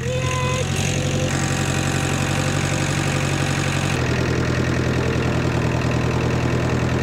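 A tractor engine idles steadily nearby, a loud continuous low rumble with a constant rhythmic knock that barely changes from start to finish.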